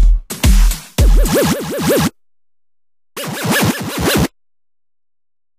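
Two bursts of a synthesized moombahton-style wobble bass, its filter pitch rate changed between takes, pulse in rapid, regular oscillations separated by dead silence, loud and alone with no talk.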